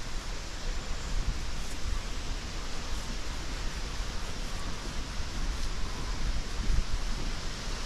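Strong wind blowing steadily across an open lakeshore during pike fishing in Ireland, a dense broadband rush buffeting the microphone throughout, with no clear voices.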